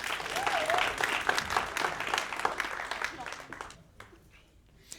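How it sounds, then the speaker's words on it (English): An audience at a live magic show gives a round of applause, brisk clapping that fades out toward the end, with a voice talking over it. "I'll give you another round of applause"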